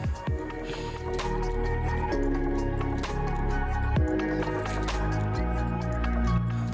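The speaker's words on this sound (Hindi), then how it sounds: "कलर होने के बाद हमें वाटर दे दिया उसमें" Water is poured into a pan of fried garlic and black pepper, giving wet splashing, dripping and squishy bubbling sounds against a steady tonal background, with no talking.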